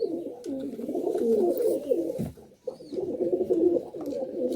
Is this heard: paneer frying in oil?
no